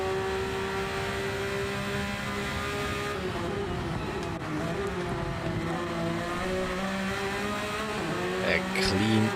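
A race car in a sim racing game, during a GTEC-class Nürburgring 24h race, runs out of the Michael Schumacher S and onto the gravel. A loud, steady engine drone holds throughout, with a commentator talking over it.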